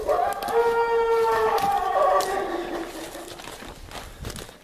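Several wolves in a pack let out a warning howl, overlapping drawn-out wavering tones that carry clearly at moderate distance before fading, with faint rustling underneath.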